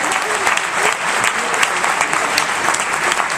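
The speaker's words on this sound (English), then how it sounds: "All round of applause, please, for Councilman Speaker." A large audience applauds at a Martin Luther King tribute event, dense sustained clapping filling the hall from start to finish at a loud, even level.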